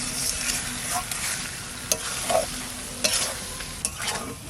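Chicken curry stir-fried in a pan, a dense ongoing sizzle up close, with a few sharp scrapes and clinks of a spoon as the mixture is stirred, no voices.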